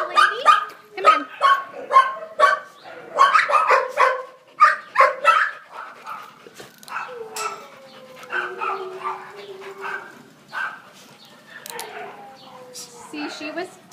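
A small dog barks in short, sharp bursts and yips, close and loud at first, then settles into softer whimpers and whines as someone talks over it.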